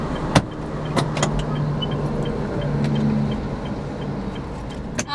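Trucks passing on a road, a continuous rumble of traffic with a few sharp knocks and a swelling whoosh as a vehicle goes by nearby.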